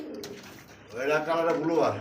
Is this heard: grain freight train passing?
no